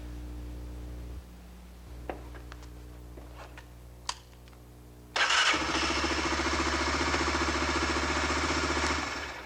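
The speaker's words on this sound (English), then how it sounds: "see if the engine will start" A motorcycle engine, with its faulty open ignition switch bypassed to ground, cranks with a few clicks, then fires up and roars into a steady, loud idle close by.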